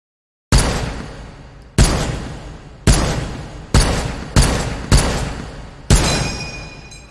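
Seven loud M1 Garand rifle shots in the VR shooter H3VR, fired singly at an uneven pace about a second apart, each a sharp crack with a long decaying tail and no talk.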